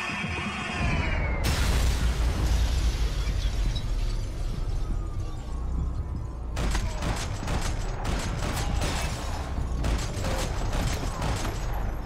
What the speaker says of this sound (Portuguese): Eita, começou já o tiroteio.